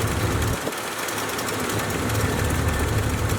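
A warm V8 engine in a 1981 Pontiac Trans Am idles with a steady, continuous rumble, loud and close, without speech.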